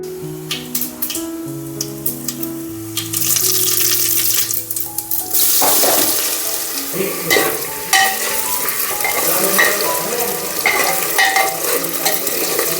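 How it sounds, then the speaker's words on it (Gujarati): Rice being tempered in a pan with potatoes, tomatoes, onion and peas sizzles and fries loudly while a spoon stirs and scrapes, close up, with occasional clatters. "જો બધો સામાન મોરે અને ભાત વઘારે નાખ્યા ડાયરેક્ટ"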